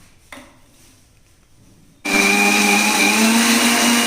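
After a quiet moment and a small clatter, a mixer grinder grinding tomato chutney kicks on abruptly and whirs loudly and continuously.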